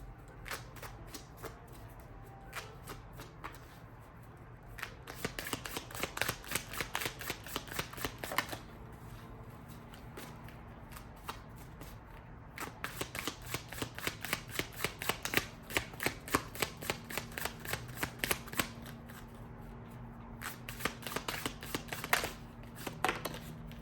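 A deck of tarot cards is shuffled by hand in quick fluttering runs, with rapid clicking bursts repeated several times with short pauses between, close and fairly quiet.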